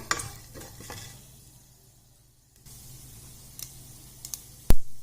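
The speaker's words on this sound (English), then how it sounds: "To this itself we will add a half a teaspoon of turmeric powder. Let it get fried." Half a teaspoon of turmeric powder fries in hot oil with chana dal for a bottle gourd curry, with a brief sizzle and stirring at the start, a quiet gap, then scattered scrapes and a sharp utensil knock near the end.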